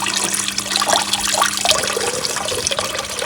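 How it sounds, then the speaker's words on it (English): Water trickles from a small tap on a garden water feature brazed from recycled copper cylinders, giving a steady splashing, bubbling wash heard close, with a faint low hum beneath. "So the water can also just trickle out of there as well."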